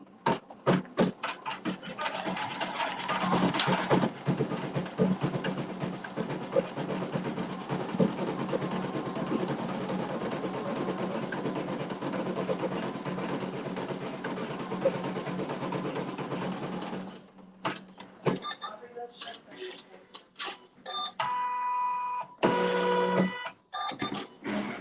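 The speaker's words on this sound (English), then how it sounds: "let it do the quilting" An embroidery machine quilts a quilt block, running a steady, loud stitching whir for about seventeen seconds before slowing into short, intermittent bursts and pauses near the end.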